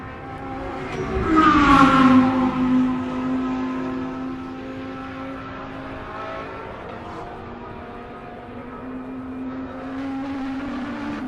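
GT3 race cars, among them a Lamborghini Huracan GT3 Evo, roar past on a circuit. A loud engine note swells and sweeps in pitch, then fades into a steady distant drone that lingers for several seconds.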